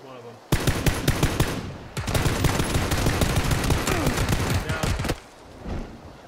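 Loud, sustained automatic gunfire in the battle royale game PUBG, dense rapid bursts running for several seconds with a brief break, then fading to quieter ambience.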